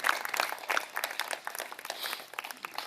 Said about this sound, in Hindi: थोड़ी उनके लिए हम ताली बजा दें